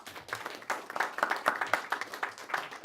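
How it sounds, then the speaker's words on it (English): Small audience applauding at a community event: scattered individual hand claps, fairly close and uneven in rhythm, building into a steady patter for about three seconds, with no talking over it. "Give yourself a round of applause,"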